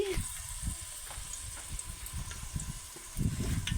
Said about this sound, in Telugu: కొంచెం జీలకర్ర ఆవాలు కొంచెం పోపు వేసుకుంటున్నాను అవి కొంచెం ఫ్రై అయిన తర్వాత